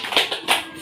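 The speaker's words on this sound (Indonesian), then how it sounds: "Tepuk tangan dulu dong untuk ini" A short burst of hand clapping in a classroom applause moment, two quick light patches of claps about a third of a second apart, fairly soft and close.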